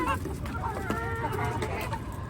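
Hungry chickens kept without food or water since the day before cluck and murmur in a low, busy stream with faint background noise.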